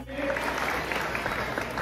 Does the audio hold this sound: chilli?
no